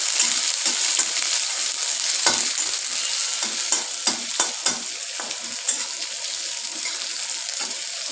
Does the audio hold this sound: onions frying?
yes